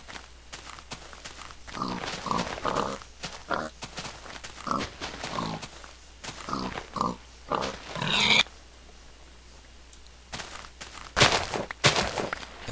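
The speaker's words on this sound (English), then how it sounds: "Pigs, pigs, pigs." Pigs oink and grunt in a video game, a run of short repeated grunts close by, followed by a brief pause and then a few more sharp sounds.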